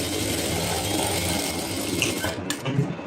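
A sewing machine runs steadily, putting a double stitch into a kurti, its close, continuous rapid mechanical whir slowing slightly near the end.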